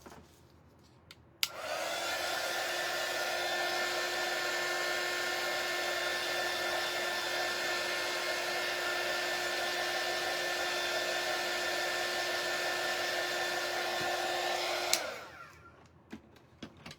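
A hair dryer runs steadily for about thirteen seconds, drying strong double-sided tape on a large sunflower birdhouse stand: a loud, even whine that starts and stops abruptly, with no talking.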